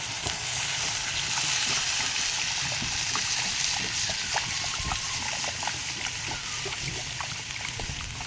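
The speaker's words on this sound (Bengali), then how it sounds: "এবার জল দিয়ে দেবো পরিমাণ মতো।" Water is poured into a pan of cooked-down spiced raw jackfruit kofta curry, a steady loud hissing sizzle with a running trickle throughout, close and continuous with no talk.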